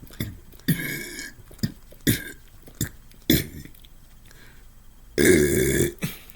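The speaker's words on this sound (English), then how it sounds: "But for me, it's farting and burping." A person burps repeatedly, a series of short, loud belches with quiet gaps between them, ending in one longer, drawn-out burp and a final short one.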